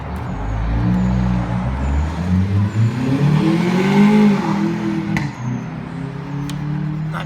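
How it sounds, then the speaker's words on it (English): Ford Focus with an aftermarket exhaust revving as it leaves a car wash, a moderately distant engine note rising and falling over several seconds, with faint sharp hisses near the end. "it's a Ford Focus with some exhaust"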